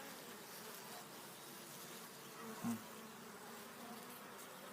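A steady, low hum of many honey bees buzzing together inside a hive, faint and continuous, with one brief knock partway through.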